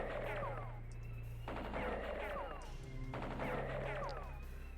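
Bursts of gunfire from the strategy video game Spellcross sound in three repeated volleys of rapid shots over a steady low synthetic drone.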